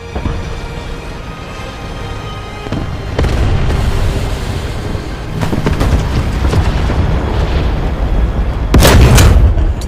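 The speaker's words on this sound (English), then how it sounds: "The artillery is on the position." Artillery fire in the tank game War Thunder booms repeatedly over low battlefield rumble, with several sharp, heavy blasts spaced irregularly and one especially loud near the end.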